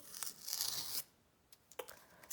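A paper surprise packet rips open along its perforation, a close, bright tearing sound lasting about a second, followed by a few small crinkles and rustles of paper.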